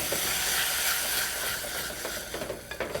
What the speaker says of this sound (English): Add your tomatoes. And stir fry